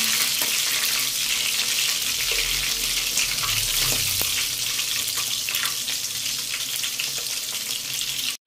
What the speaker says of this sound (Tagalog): Nagigisa na po tayo.